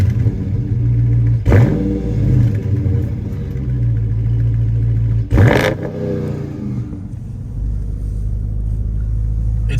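Dodge Charger SRT Widebody Scat Pack V8 in comfort and eco mode, a deep rumbling engine note running steadily while driving, with two sharp surges where it revs up hard before settling back into a loud, even drone.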